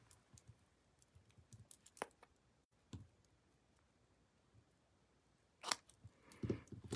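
Scissors trimming the ends of fabric strips at an angle, heard as a few soft, close snips and clicks spread out over a quiet background.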